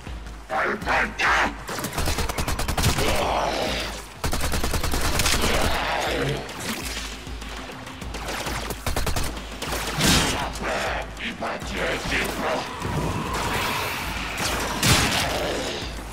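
Gunfire in the video game Warframe, rapid bursts of shots and sharp cracks spread throughout, fairly loud, with someone talking over parts of it.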